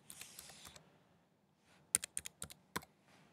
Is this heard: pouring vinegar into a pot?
no